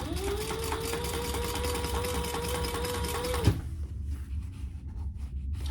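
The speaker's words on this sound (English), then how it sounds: "I'm going to top stitch only the outside." Sewing machine running steadily as it top stitches the outside of a crossbody bag, a close, continuous motor whir with rapid needle ticking that stops abruptly with a clunk, leaving quieter room sound.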